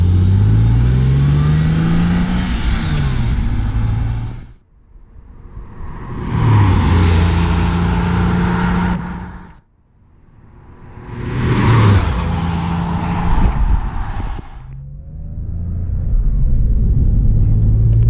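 A 1999 Porsche 911 Carrera 996 accelerating hard on the road, the engine roaring loudly through three rising pulls, with a brief drop in sound between each gear change.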